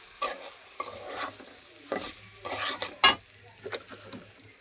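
Washed rice fries with cooked chicken meat in a pan, a spoon scraping and stirring in repeated strokes over a low sizzle, with a sharp metallic clink partway through.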